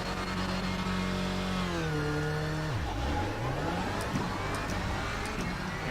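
Race car engine revving hard at a standing start in the iRacing sim, a loud continuous roar with pitch climbing then dipping sharply through a shift before rising again.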